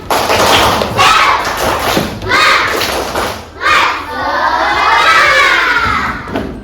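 Class of children doing a tepuk semangat spirit clap, loud bursts of rhythmic clapping and thumping mixed with shouting and cheering voices, ending in a longer rising crowd cheer.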